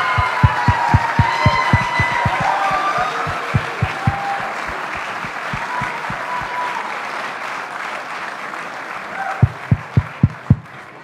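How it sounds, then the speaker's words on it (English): Applause and crowd noise at the 2017 Tewaaraton Award ceremony honoring top NCAA lacrosse athletes, sustained throughout with a steady run of loud rhythmic thumps that fades midway and returns briefly near the end, with scattered voices mixed in. "You guys could come back one more time for a round of applause and a picture."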